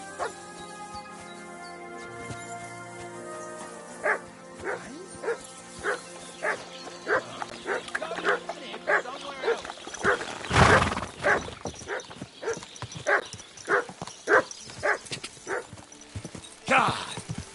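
A dog in Kingdom Come: Deliverance 2 barks repeatedly in a regular series of sharp yaps over about eight seconds, with horse hooves clip-clopping and a brief burst of louder noise partway through.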